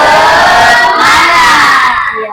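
A classroom of children shouts a loud, sustained group chant together as part of a spirit clap, their voices close and overlapping before breaking off abruptly near the end.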